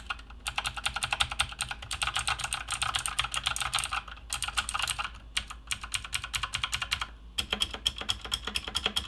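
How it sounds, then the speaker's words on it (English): Rapid typing on a cheap mechanical gaming keyboard with loud blue-style switches, a dense run of sharp clicky keystrokes with a few brief pauses, close and clear with no voices. "These are definitely some of the loudest switches I've ever used"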